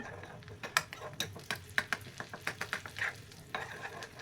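Vadagam fried in a small pan to temper sambar, a quick run of crisp ticking crackles and pops over a low sizzle, with occasional scrapes of stirring, close but quiet.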